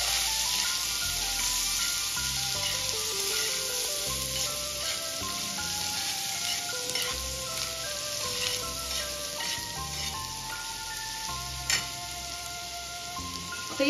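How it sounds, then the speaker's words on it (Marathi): Chopped onions sautéing in a pan for Mumbai street-style masala pav, a steady close sizzle with occasional stirring scrapes. Soft music plays underneath throughout. "इथे आपल्याला कांदा नॉर्मल सॉफ्ट होईपर्यंत परतून घ्यायचा आहे।"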